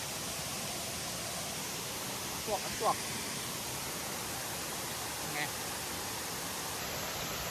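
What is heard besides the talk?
waterfall at Erawan waterfall, Kanchanaburi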